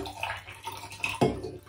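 Long Island Iced Tea poured from a cocktail shaker into a glass at a home bar, a short soft liquid splash and trickle with a brief gurgle near the end, close and faint.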